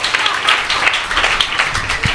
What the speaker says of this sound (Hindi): इसलिए जोर से तालियां बजाकर प्रभु यीशु को धन्यवाद दीजिए।